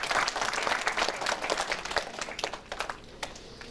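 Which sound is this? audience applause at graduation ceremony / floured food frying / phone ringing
audience applause at graduation ceremony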